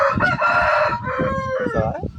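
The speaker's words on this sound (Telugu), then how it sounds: "మళ్ళీ కోళ్ళు అరుస్తున్నాయి" Roosters crow loudly and up close in long, drawn-out calls with clucking between them, filling the whole short stretch with no talk.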